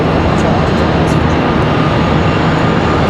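PSA Airlines CRJ regional jet departing Charlotte Douglas International Airport, a steady broadband engine roar heard from a distance that holds at an even level throughout.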